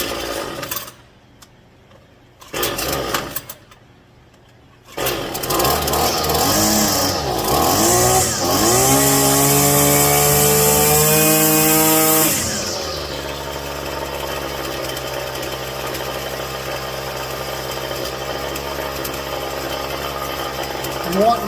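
A gas string trimmer coughs and sputters, then catches and climbs sharply to a loud full-throttle wail. It holds briefly before settling back to a lower, steady running note.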